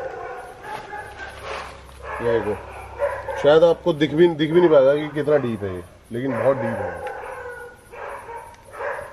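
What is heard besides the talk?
dogs barking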